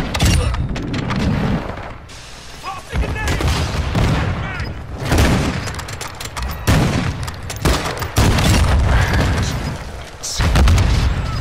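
Loud video game firefight with repeated gunfire bursts and heavy explosion booms, including a thrown grenade, rolling on and off across the whole stretch with brief lulls, some voice chatter mixed in.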